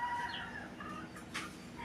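Chickens clucking with rooster-like calls, steady and fairly faint, moderately distant in an outdoor rural setting with constant background noise.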